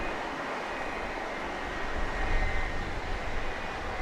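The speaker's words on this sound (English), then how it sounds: "There's that tri-jet we saw earlier." A Dassault tri-jet at Grand Cayman airport gives a broad, steady engine roar, loud and continuous, swelling slightly midway with no voices over it.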